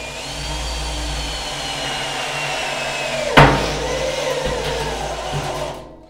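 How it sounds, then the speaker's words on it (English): A cordless electric drill bores into a metal barrel, a steady whining motor drone that lasts several seconds, broken by a sharp metallic crack near the middle before the whine winds down and stops. "we're gonna have to get an electric drill out, I guess"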